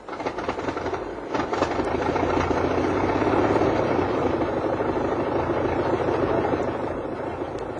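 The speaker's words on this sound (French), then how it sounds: "le moteur, remis à neuf, vrombit de nouveau." A small blue car's freshly rebuilt engine roars steadily, a rough mechanical drone that swells in the middle and eases slightly toward the end, heard alone without voices.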